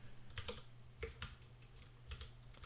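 Keyboard keys clatter in a few short bursts of typing, quiet and close, with a low steady hum underneath while notes for a Beyond All Reason build order are updated.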